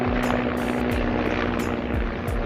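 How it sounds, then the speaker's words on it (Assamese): A helicopter flies overhead over Barpeta, Assam, its rotor blades chopping in a fast, regular thump with a loud, steady engine drone. "বৰপেটাৰ আকাশত হেলিকপ্টাৰ উৰিছে"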